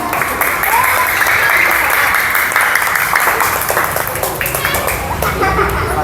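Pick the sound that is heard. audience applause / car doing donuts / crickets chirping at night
audience applause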